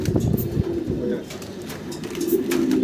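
Pigeons on a farm coo in low, repeated throaty calls, fairly close, with a voice and soft background bustle mixed in.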